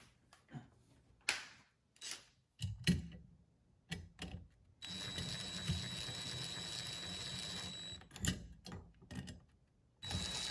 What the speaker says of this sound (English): now I gotta tighten all these screws